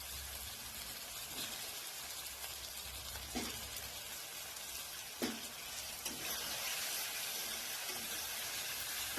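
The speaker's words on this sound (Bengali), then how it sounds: "আলুটা দিয়ে মশলাটাকে দিয়ে ভালো করে ভেজে নেব।" Faint, steady frying hiss of potatoes in spice paste for a Bengali chicken dish, with a few soft stirring scrapes and knocks as it cooks; no one speaks.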